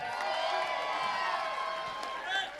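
An audience at a robotics competition cheers for the Red Alliance, a loud sustained crowd of whoops and shouts filling the hall throughout.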